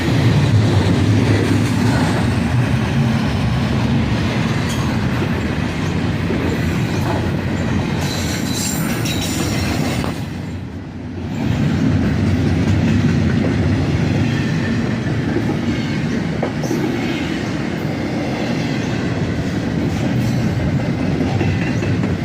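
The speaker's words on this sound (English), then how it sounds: "This train also has a second locomotive running DPU towards the rear half of the train." CSX double stack freight train rolling past in bright sun, with a second DPU locomotive toward the rear: a loud, steady roar of wagons and wheels with clickety-clack and occasional squeal, dipping briefly midway before resuming.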